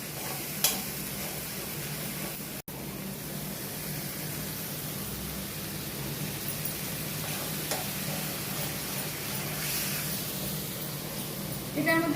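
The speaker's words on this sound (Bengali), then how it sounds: "চারমগজ আর কাজু আর আদা লঙ্কা দিয়ে এটা নাড়বো ভালো করে" A ground paste of melon seeds, cashew, ginger and green chili is stirred in a hot pan for a potato and paneer curry, giving a faint, steady sizzle with soft scraping strokes and no talk.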